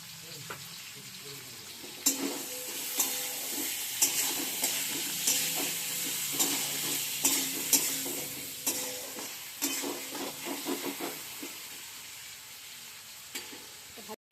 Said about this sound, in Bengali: আলু বেগুনটা ভাজা হয়ে গেছে